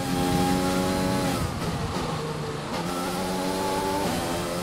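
A Formula 1 car engine in the F1 2020 racing game screams at high revs, pitch climbing and shifting through gears across nearly five seconds, loud and steady with no talk.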